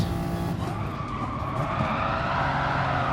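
Race cars in GT Sport sliding through a turn, tires squealing and skidding over loud engine roar as the pack passes close by, continuous with no talk.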